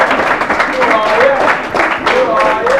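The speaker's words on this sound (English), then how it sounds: "let's give a round of applause for our newcomers" Group applause greeting newcomers to a football team, with a short burst of steady clapping from a small crowd and voices audible underneath.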